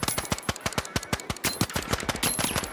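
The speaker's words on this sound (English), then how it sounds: "See how fast that little gun fires." A small gun in The Finals fires a rapid stream of sharp, evenly spaced shots, loud and close, with a brief pause midway before the burst resumes.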